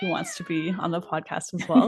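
A pet cat meows loudly and insistently indoors during a podcast recording about teaching English abroad. The meows overlap a person talking close to the microphone.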